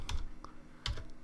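Typing on a computer keyboard at a command prompt: a few quick, close key clicks in two small bursts separated by a short pause, with no speech.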